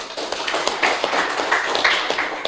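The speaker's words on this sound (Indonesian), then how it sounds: "Tepuk tangan untuk NU." A crowd applauds together, a steady dense patter of many hands clapping at moderate loudness for a couple of seconds.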